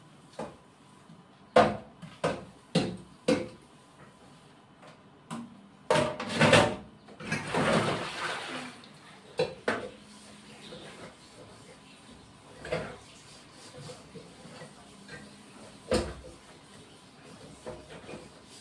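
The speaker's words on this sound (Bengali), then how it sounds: "বন্ধুরা এখন কড়াই আছে, থালা আছে, কিছু বাসন আছে, মেজে নিচ্ছি" A wok, plates and utensils are scrubbed and washed by hand, giving scattered metallic clanks and knocks at uneven intervals. Between them come brief scraping bursts, all fairly soft against a quiet background.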